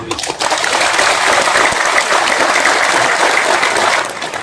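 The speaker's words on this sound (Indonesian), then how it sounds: "Saya sebenarnya nggak bangga dengan tepuk tangan." An audience at a religious talk in a police station hall breaks into dense, loud, sustained clapping that runs steadily for several seconds before thinning slightly at the end.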